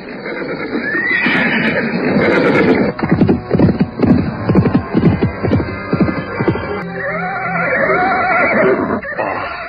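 Several horses whinny and neigh loudly and close by as riders set off on horseback toward a mountain gate, with hoof clatter and bursts of repeated neighs filling the scene and no talk.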